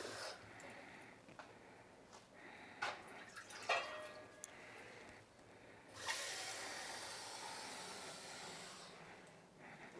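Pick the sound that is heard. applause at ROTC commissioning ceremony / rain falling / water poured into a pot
water poured into a pot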